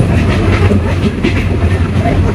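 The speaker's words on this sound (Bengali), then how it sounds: "আমাদের বিজয় এক্সপ্রেস ট্রেনটি জামালপুর থেকে তার প্রথম যাত্রাবিরতি করার উদ্দেশ্যে ছেড়েছে" The Bijoy Express passenger train rumbles along at night after leaving Jamalpur, heard from inside a coach as a loud, continuous low roar with rhythmic rattling of the carriage.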